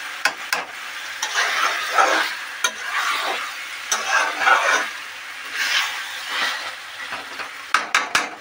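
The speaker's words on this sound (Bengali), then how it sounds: "আমি আরও একবার নেড়ে দেবো" Beef chaap fries in oil while a utensil stirs it, producing a close, steady sizzle broken by sharp scrapes and clinks of the spoon against the pan, with no voices.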